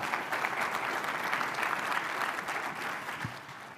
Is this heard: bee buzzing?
no